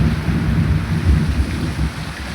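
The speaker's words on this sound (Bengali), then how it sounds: "গুরুগম্ভীর আওয়াজ, তার সাথে মুষলধারে বৃষ্টি, মাঝে মাঝে বিদ্যুতের ঝলকানি" Heavy monsoon downpour roars steadily at Sasaram, with deep rolling thunder rumbling underneath, loud and continuous with no voices.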